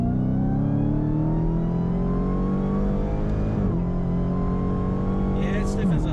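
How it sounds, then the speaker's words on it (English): A 2021 Dodge Challenger Super Stock accelerates at full throttle in third gear from about 40 mph, its engine note climbing steadily and loudly for several seconds before a brief shift-like dip and continued pull. "third gear, 40 miles an hour, floor it"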